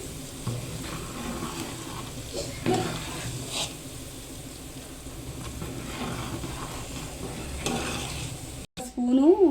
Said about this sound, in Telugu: పల్లి నూనె కదా పొంగుతుంది